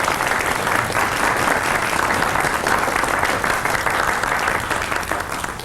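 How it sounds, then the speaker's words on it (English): Audience applause at a live event, dense, steady clapping from a crowd filling the space for several seconds and slowly beginning to taper at the end. "Give this man a hand."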